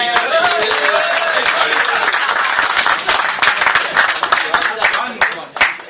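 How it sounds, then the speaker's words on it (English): Loud, sustained applause from a crowd at a political meeting in Bradford, dense clapping throughout with some cheering and voices mixed in. "a big round of applause"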